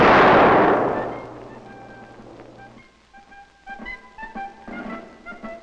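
A Civil War artillery demonstration: one big cannon blast booms at the start and rolls away into a long fading rumble, followed by faint distant crackles and pops.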